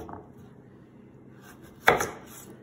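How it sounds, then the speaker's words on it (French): A knife chops carrots into quarters on a board, giving one sharp, close thunk after a few softer taps and some handling noise. No one speaks. "nous allons couper nos carottes en quartiers"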